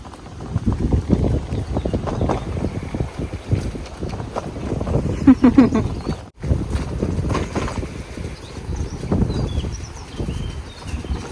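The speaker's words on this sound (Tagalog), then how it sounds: "mahangin po ngayon dito" Strong wind buffets the microphone in a steady, loud roar, with brief gusty surges and a moment of sudden quiet midway.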